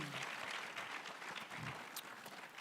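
Applause fills a conference hall at a veterinary conference, a steady dense patter of many hands clapping throughout, fairly loud and continuous with no speech over it.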